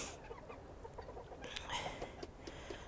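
Serama and Japanese bantam chickens cluck softly in a pen, faint scattered clucks over a low background hum.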